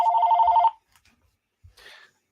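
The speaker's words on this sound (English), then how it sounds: "And that was my phone." A phone rings once, loud and close, with a steady electronic trill lasting well under a second, followed by a brief muffled shuffle and a short burst of softer noise.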